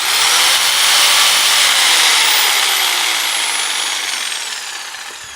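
A Milwaukee jigsaw cutting, a loud, steady high-pitched motor whine with buzzing blade noise that holds near and constant before slowly tapering off toward the end.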